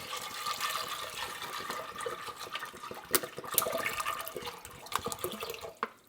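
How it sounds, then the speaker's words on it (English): Bottled water is poured over dry beans in a pot, a continuous close splashing and gurgling stream that tapers off near the end. "I'm going to add bottled water to more than cover them"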